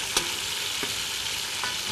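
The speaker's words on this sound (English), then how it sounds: "Well, chicken's been frying for about just about 10 minutes," Chicken pieces fry and brown in a black pot for gumbo, giving a steady close sizzle with a few soft scrapes of stirring.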